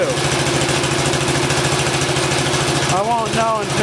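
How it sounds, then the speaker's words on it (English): Old tractor engine that has been sitting unused for a long time, running steadily with a rough, even idle throughout, loud and close. "This engine, I don't know, it could be that it's just been sitting for a long time too."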